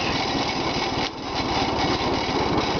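Old small 11 hp engine on a vehicle running steadily at close range with a fast, even firing rhythm, briefly dipping near the middle before picking back up, no voices.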